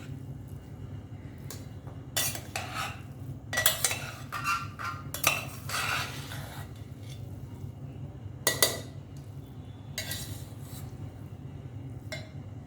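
A spoon stirring masale bhat rice in a pot, producing scattered scraping and clinking bursts against the metal over a low steady background hum, close by with no speech.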